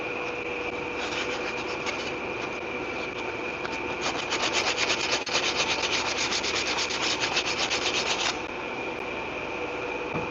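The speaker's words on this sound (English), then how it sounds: "This is only 120 grit sandpaper." Steady rasping strokes of 120 grit sandpaper worked over wood, a continuous scratchy rub that grows a little louder and faster in the middle before easing off, close and alone.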